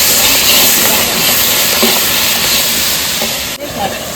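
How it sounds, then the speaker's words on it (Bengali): Ginger-garlic paste hits a hot pan while cooking methi chicken and gives a loud, continuous hiss and sizzle that fills the whole clip. A short thud is heard near the end. "এবার আদা রসুন পেস্টটা দিয়ে দিলাম"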